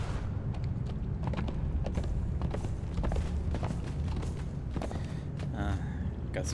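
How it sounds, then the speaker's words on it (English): Horse hooves in Conan Exiles clip-clop in a steady walking rhythm, moderately close, layered over a low ambient game drone with a few scattered thumps and creaks. "horse."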